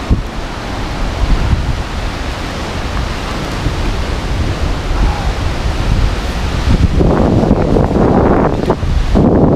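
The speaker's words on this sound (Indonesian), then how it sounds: "ombaknya besar banget" Big waves crash against sea cliffs on the Lombok coast, a loud continuous roar of surf with heavy wind buffeting the microphone and a surge of spray building toward the end.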